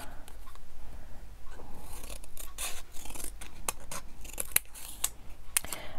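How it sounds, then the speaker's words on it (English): Scissors snip through cori strips in a run of close, crisp cuts, irregular and unhurried, over a faint rustling background. "I'm cutting this off."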